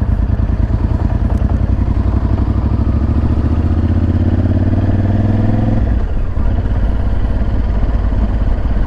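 Several motorcycles ridden together on the road to a moto rally, two Hondas and a Yamaha, with a loud continuous engine drone that holds steady, rises in pitch as they accelerate, then drops off near the end.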